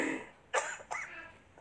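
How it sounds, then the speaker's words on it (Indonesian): A single cough, then a second, smaller one, close and fairly quiet, with a short vocal sound just before and nothing else around them. "Batuk"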